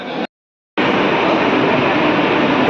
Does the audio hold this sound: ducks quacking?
no